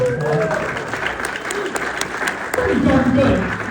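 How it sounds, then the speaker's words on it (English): An audience at a magic convention lecture claps for a volunteer after a card trick, with a dense burst of applause that swells again toward the end, mixed with voices and crowd murmur. "Can we give Fred a big round of applause?"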